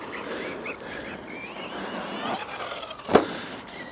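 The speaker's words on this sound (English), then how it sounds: "It sounds like it's chassis slapping, but it's not. It's that body making that noise." An FMS FM10 4S RC truck drives nearby, its motor whining over loose rattling from the body, with a sharp clack near the end.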